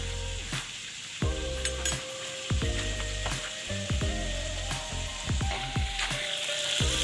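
Fish frying in hot oil in a wok sizzles in a steady, loud hiss, punctuated by repeated sharp clanks and scrapes of a utensil against the pan.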